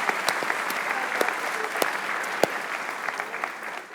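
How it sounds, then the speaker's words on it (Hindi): Scattered applause in a quiet room during a cricket commentary show about Pakistan losing to England, a soft bed of clapping with several sharp individual claps standing out. "तालियां बजाइए पाकिस्तान"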